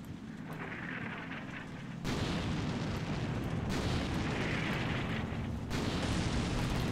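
Mortar fire in the war game Combat Mission Black Sea: heavy, rumbling booms that surge in broad waves, loud and continuous, with the barrage swelling at intervals.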